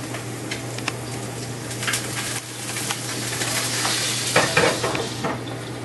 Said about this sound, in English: I'm going to put them in a little bit of olive oil and butter in a nice warm pan.